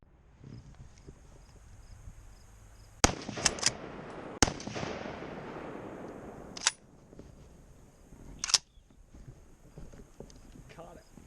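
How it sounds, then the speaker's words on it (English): A tracking rifle fires a few rounds during a deer-hunting outing, sharp loud cracks spaced several seconds apart, some followed by quick smaller clicks, over a faint outdoor background. "I'm gonna fire off a few rounds and See what it looks like."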